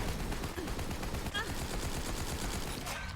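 A Laser-Sploder rifle fires in Borderlands 3 during a hard fight, a dense, steady stream of rapid shots and explosive bursts running loud throughout with no pause.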